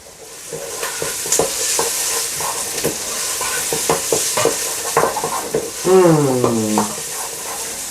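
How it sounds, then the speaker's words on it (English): Onions frying in a pan for a cabbage and meat stew, a steady close sizzle with repeated scraping stirs over it, fairly loud and continuous. "So the onions are now getting nicely translucent."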